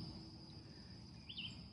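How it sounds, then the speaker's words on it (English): Outdoors, a steady high cricket trill runs throughout, faint and distant, with one brief bird chirp near the end. "the sound of the crickets, and the sound of the birds"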